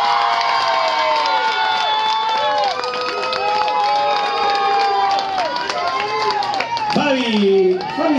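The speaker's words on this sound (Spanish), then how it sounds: "Voy a repetir aplausos, solamente aplausos hasta el baño del fondo para la pareja número 1" At a Bon Jovi tribute show, an audience responds to a dance couple with sustained cheering, high whoops and screams, and light clapping, while voices talk over the din.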